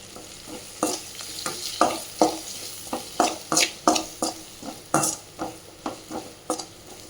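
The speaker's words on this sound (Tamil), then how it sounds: "மிளகாய் தூள் கொஞ்சம், பெப்பர் தூள் கொஞ்சம் சேர்த்து உப்பையும் சேர்த்து நல்லா கிளறி விட்டுக்கலாம்" Gobi Manchurian cauliflower, seasoned with chili powder, pepper and salt, is stirred in a frying pan, with a steady rhythm of close scraping strokes over a soft sizzle and no talking.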